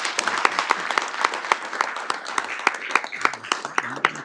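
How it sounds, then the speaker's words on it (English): At a Santa Clara council meeting, a modest audience applauds, with individual hand claps standing out sharply in a brisk, uneven rhythm close by. "Let's give him a round of applause."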